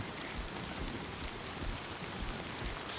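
Rain falling in the video game Death Stranding 2, a steady even hiss of drops striking the ground, close and continuous with no voices.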